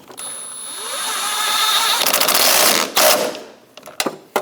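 Power tool, likely a ratchet or impact driver, driving in the steering shaft bolt on a 2003-2025 Chevrolet Express 2500, a loud close whirring buzz that builds and sustains, then breaks into short sharp bursts and clanks.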